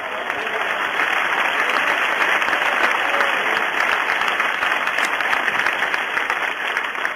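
A Portuguese-speaking church congregation applauds during a sermon on speaking in tongues, a dense, loud, continuous wash of clapping that holds steady for over seven seconds with no speech on top.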